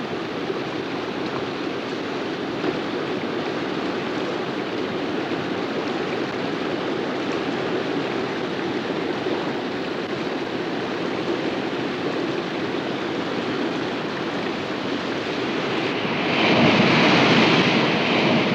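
Floodwater from rainforest downpours rushes off into swollen rivers, a steady, loud, broadband roar of churning water that swells slightly near the end, with no voices.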